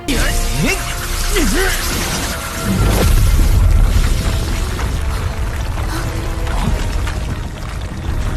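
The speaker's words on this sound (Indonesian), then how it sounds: "menghancurkan batu meteor sampai menimbulkan ledakan yang cukup besar" A deep, rumbling blast from a meteor rock being destroyed roars through a dense wash of noise, with a sustained crackling boom and swooping tones earlier on, in the game Martial Universe.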